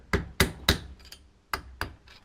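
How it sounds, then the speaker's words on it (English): Five sharp hammer blows drive an axle shaft seal into a VW Vanagon transmission, close and loud, in two uneven groups of three and two with ringing metallic decay between strikes. "And sometimes you have to hammer it"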